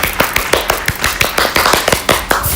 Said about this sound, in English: The claps in the back